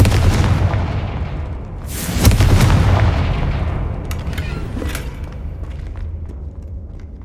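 Confringo fire spell in Hogwarts Legacy bursting with a loud booming blast that rumbles on, followed by a lingering crackling, debris-filled tail.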